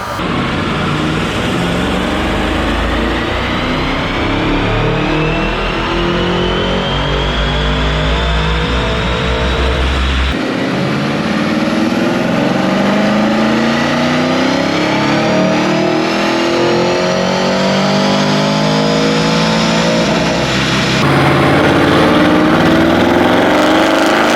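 A Unitronic Stage 2 tuned Audi RS6 Avant on a Mustang chassis dyno, with the engine revving hard through the gears in long rising pulls and shifts, very loud and close, with no talking.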